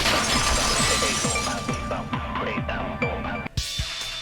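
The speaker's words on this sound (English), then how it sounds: "the sound the girls heard wasn't the window breaking. It was the vase." A vase shattering in the video game Danganronpa 2 sounds as a run of sharp glassy breaks and tinkling clinks that repeat in quick bursts over a busy musical background, loud and close.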